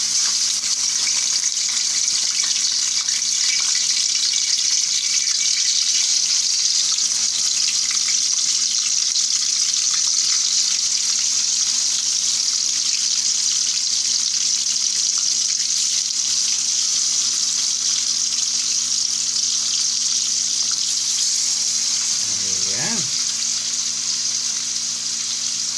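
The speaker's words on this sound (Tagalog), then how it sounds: "so at this point, pan fry na tayo ng ating pork ribs" Pork ribs pan frying in hot cooking oil, a loud, steady sizzle with crackling throughout and a brief clink of a utensil near the end.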